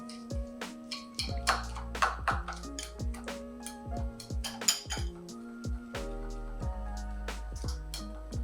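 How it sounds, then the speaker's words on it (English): A whisk clinks and scrapes against a bowl while mixing Dijon mustard and dill into a sauce, making rapid, uneven metallic taps and rings close up with no talking. "And we want to whisk this together."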